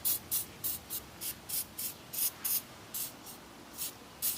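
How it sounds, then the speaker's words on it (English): Repeated short bursts of Liquid Wrench penetrating oil sprayed from an aerosol can onto a rusty brake drum of a 2009–2013 Toyota Corolla, about a dozen evenly spaced hissing puffs, close and fairly quiet, with no talking. "I like to use WD-40, but I like to use liquid wrench a little bit better on certain things"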